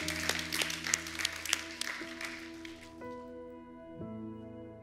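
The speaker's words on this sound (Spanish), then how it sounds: "por favor, un aplauso, le recibimos." A church audience claps steadily for a few seconds, the applause fading out while a sustained musical chord rings underneath and continues alone.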